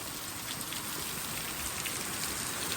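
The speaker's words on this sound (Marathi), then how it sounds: "पाऊस एवढा मित्रांनो आलाय शपथ." Heavy monsoon rain falls in a village, a dense, even hiss of drops pattering on surfaces, steady and enveloping without voices.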